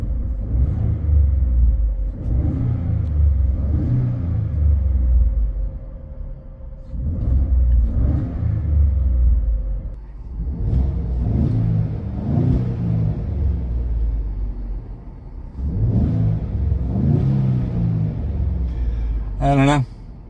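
A 2021 Ford F-150 engine with its stock air filter revs repeatedly in several rising and falling bursts, a deep rumbling roar heard close up, with brief pauses between revs and no talk.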